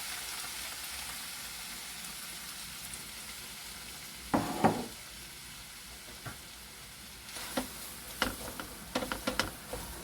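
Onion, carrot and bell pepper fry in a pot with a constant soft hiss of sizzling oil, joined midway and toward the end by several clattering stirs of a utensil against the pot.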